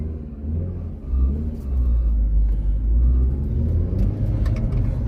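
Audi TT 8N with a 1.8T 225 engine running and driving, a steady low rumble that swells as the car pulls away and keeps droning close and loud throughout, with no talk.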